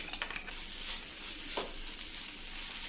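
Okra thoran fries in a pan with a soft, steady sizzle, a few light stirring clicks at the start, and one brief scrape midway, quiet and without talking.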